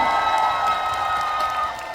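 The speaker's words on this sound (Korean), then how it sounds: "이분들께 감사드린다고 박수 한 번만 부탁드리겠습니다." A crowd at an outdoor food industry fair in Mokpo claps and cheers for a singer's fan club, the steady applause mixed with whoops and shouts before easing off near the end.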